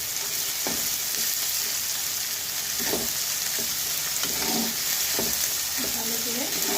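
Ginger-garlic paste hits a hot frying pan for a potato and pointed gourd curry, setting off a loud, continuous sizzle with scattered scraping stir knocks throughout.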